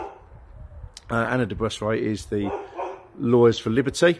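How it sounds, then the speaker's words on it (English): Dog barking indoors during a livestream vlog: several loud barks and yips close by, mixed with someone talking. "Excuse the dog, I swear that dog never goes indoors."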